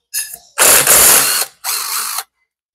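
A ratchet wrench loosening a cylinder head screw on a Yamaha Y110SS motorcycle: three loud, close bursts of rapid ratcheting clicks, the middle one longest, separated by short pauses.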